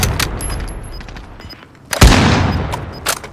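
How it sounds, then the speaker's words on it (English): Gunfire from other players in the video game Call of Duty: Modern Warfare: scattered distant shots, then a loud nearby blast with a ringing tail and a few more cracks. "There are other people shooting here"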